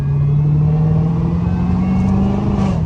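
A Hellcat with a catless exhaust revs with a loud, steady engine roar that rises slightly in pitch, recorded close with no talk over it.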